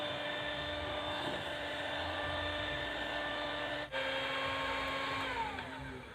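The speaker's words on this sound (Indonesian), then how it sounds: "Kemudian kita mixer. Selama kurang lebih sekitar 2 menit." An electric mixer beats a corn ice cream mixture with a continuous, steady motor whine close by. The whine dips for a moment partway through, then carries on at the same level.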